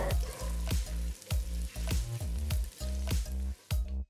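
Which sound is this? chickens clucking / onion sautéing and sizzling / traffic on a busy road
onion sautéing and sizzling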